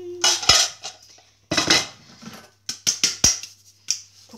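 A plate fetched and set down among ceramic and cutlery clatter, with several sharp clinks and knocks in irregular bursts separated by short quiet gaps, close and fairly loud.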